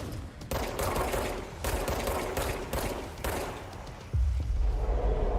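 Rapid bursts of automatic gunfire in the video game Control, sustained volleys with short gaps and a heavy low thump near the end, loud and close.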